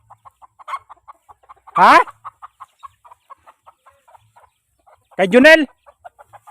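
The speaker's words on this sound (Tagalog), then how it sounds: "Yung inahing manok na may 5 anak." A mother hen with five chicks clucks in short, regular soft pulses, with two brief voices speaking over it.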